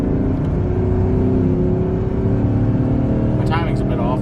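Engine of a Chevrolet Silverado 2500 4x4 pickup truck revving, a loud, steady low drone that rises slightly as it holds, with a voice talking over it.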